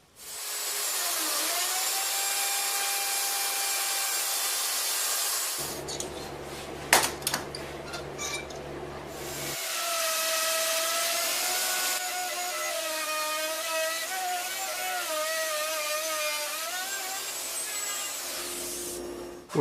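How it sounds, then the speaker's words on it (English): A wood router cuts hinge cavities in birch plywood, a loud high-pitched whine that holds for several seconds, drops out briefly, then starts again with wavering pitch as the bit bites into the wood. "With these cavities routed out,"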